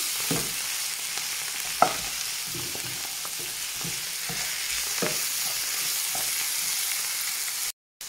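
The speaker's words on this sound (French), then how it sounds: "je vais tout faire revenir comme ça" Cleaned, chopped ingredients for a salmon and shrimp pastilla sautéing in a pan, a constant close sizzle broken by soft stirring knocks and scrapes, cut off briefly near the end.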